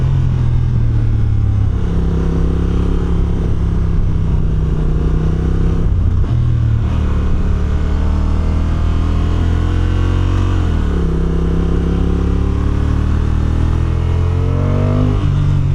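A 2025 Honda NT1100 DCT motorcycle engine revs while riding, a loud continuous drone that rises in pitch through several automatic gear changes, with steady wind noise throughout.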